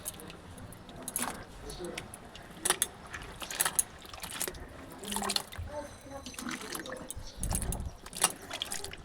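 Cut malabar spinach being washed by hand in water, giving irregular splashes, swishes and clinks at close range, with scattered rattling handling noises throughout.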